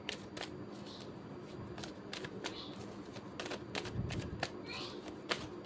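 Tarot cards shuffled by hand up close, a run of quick riffling bursts and soft flicks at an uneven rhythm, with faint speech in the background.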